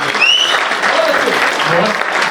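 A crowd applauds steadily and loudly at a poetry recital (mushaira) in a hall, dense clapping filling the space with a few faint voices mixed in.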